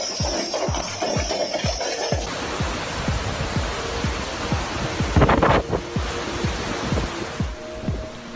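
Strong, roaring storm wind gusts in Tuscany sweep across a microphone in a steady wash of noise, with buffeting thumps and a louder surge partway through.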